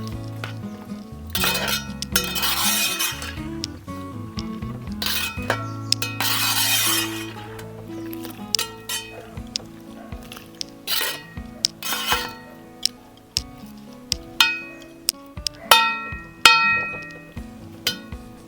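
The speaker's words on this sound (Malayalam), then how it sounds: "അന്നേരം നല്ല പോലെ ഒന്ന് ഇളക്കി കൊടുക്കുക" Garlic pickle being stirred in a metal pan, with repeated clinks and scrapes of a utensil against the pan and occasional sharp knocks, mixed with steady background sound throughout.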